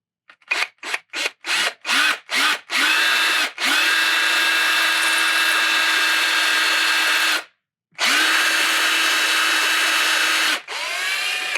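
A power drill fitted with a 1/8 inch bit bores into a sculpture piece, starting with about eight short rapid bursts, then running in long steady whirring stretches with a brief pause and a final short run, close and loud with no talk.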